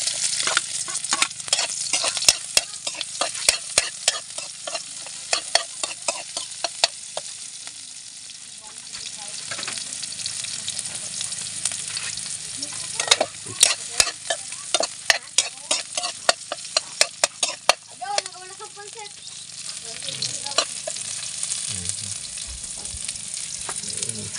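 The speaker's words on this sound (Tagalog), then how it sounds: "Gisa muna tayo mga lods." Ingredients sautéing for squid lumot in a frying pan, loud crackling sizzle with repeated sharp spatula scrapes and clanks; a voice speaks briefly near the end.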